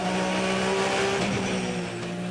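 A Porsche race car at the fog-covered Hampton Downs circuit during a 12-hour endurance race roars past at speed, its engine note loud and sustained before easing slightly.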